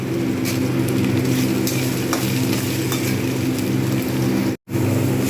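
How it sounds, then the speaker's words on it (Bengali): Radish and spinach fry under a lid in a covered pan, making a loud, continuous sizzle with a few sharper crackles and a brief dropout near the end. "সবজিগুলোকে আমি সবগুলো ভালো করে ঢাকনা দিয়ে ভেজে নেব।"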